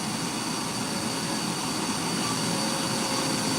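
Rotary tool spinning a small carbide burr into a wooden spoon as it is carved, a steady, dense high-pitched whine and grind held continuously at close range with no breaks.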